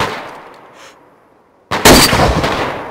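A single close, sharp .338 Kivaari sniper rifle shot in DayZ Standalone breaks a near-silent stretch, followed by a rolling, echoing tail.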